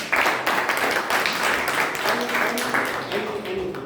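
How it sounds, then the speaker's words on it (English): Members of a Toastmasters club meeting give a round of applause, a brisk patter of many hands with a voice talking over it part of the way through. "We can encourage him with again a round of applause"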